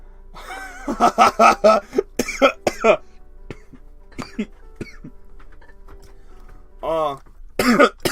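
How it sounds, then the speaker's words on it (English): A close burst of several coughs and throat clearing in the horror game Bad End, then a few short vocal sounds and more coughing near the end. "I started coughing."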